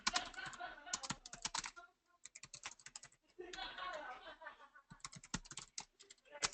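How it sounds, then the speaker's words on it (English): Someone types quickly on a computer keyboard nearby, with dense bursts of clicking keys broken by short pauses. "Let me just type something real quick"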